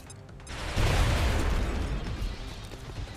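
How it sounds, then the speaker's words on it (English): A video game grenade goes off with a single loud, low boom, its rumbling blast sustained and slowly fading over a few seconds, with no talk over it. "Oh, screw it, just throw a grenade."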